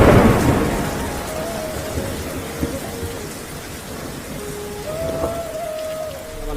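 Steady rain with rolling thunder, a loud rumble at the start fading into continuous downpour throughout, no voices.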